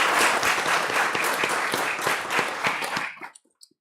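An audience at a Thanksgiving church service breaks into warm, dense applause, many hands clapping steadily before it quickly tapers off and falls silent.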